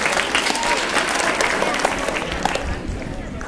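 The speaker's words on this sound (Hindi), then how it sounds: "ताली बजा लो सर।" An audience at a tourism quiz show claps steadily throughout, a dense wash of applause heard from within the crowd.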